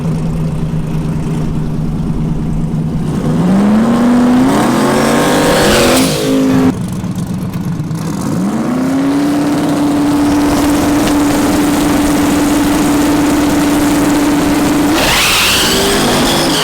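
Drag race car named El Toro making a pass at a Drag and Drive race week event in Kearney, engine roaring loud and close with a rising pitch, a break, then a long sustained high drone before another surge.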